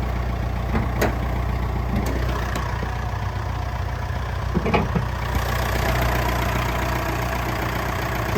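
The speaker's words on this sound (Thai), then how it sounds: "นี่คือเสียงเครื่องยนต์ที่ปกตินะครับ" A 2018 Mitsubishi Triton 2.5 GLX pickup's diesel engine idles with a steady low rumble, a few faint clicks and knocks over the continuous drone.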